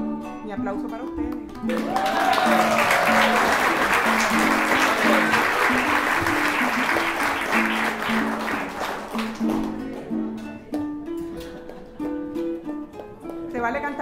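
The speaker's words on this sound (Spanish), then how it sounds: "mi aplauso para usted." Audience applause at a theatre performance breaks out and swells over a sung piece with instrumental accompaniment, holding strong for several seconds before thinning while the music continues.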